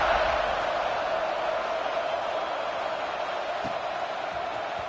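Steady stadium crowd roar from a College Football 26 game, TCU versus LSU, building at kickoff in the third quarter of a tied game, a broad continuous wash of massed voices with no talk over it.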